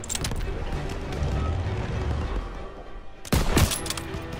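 Gunfire in Call of Duty WWII, a World War II street battle: a steady clatter of weapons fire fills the scene, then a sharp, louder burst of shots erupts near the end.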